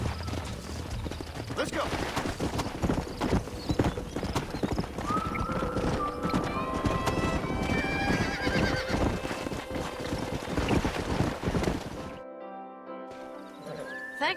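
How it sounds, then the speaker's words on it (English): Steady clip-clop of horse hooves with a horse whinnying, mixed with the Red Dead Redemption soundtrack; someone speaks briefly near the start before the sound cuts off. "We got some fine horses."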